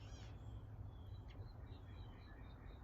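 Faint birds chirp and call intermittently outdoors in spring over a steady low background hum, with no one speaking.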